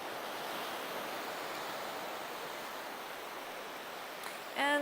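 Steady wash of ocean surf on a secluded surfer beach in Wakayama, a continuous broad hiss of breaking waves heard at moderate distance, with a short burst of louder noise right at the end.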